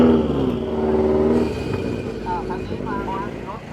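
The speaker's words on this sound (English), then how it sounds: "I can't get over the sound of the Subaru." A Subaru engine at a car meet in Thailand revs loudly nearby and then fades, leaving idling engines and crowd noise.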